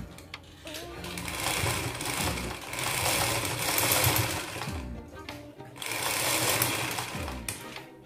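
A sewing machine stitches the waistband onto an A-line skirt, running in close, loud, continuous whirring bursts with brief slowdowns between them.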